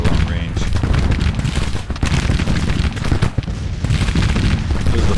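Long-range musket and cannon fire in the Grand Tactician: Civil War strategy game, dense continuous crackling volleys and rumbling booms filling the scene, with a voice speaking over the battle.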